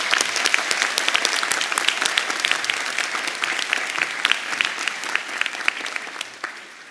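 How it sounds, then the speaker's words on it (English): Sustained applause from a large audience at a university pharmacy school white coat ceremony, dense steady clapping lasting several seconds and fading slightly at the end, with no talk over it. "please join me in giving these students a round of applause for reaching this milestone and making history with us"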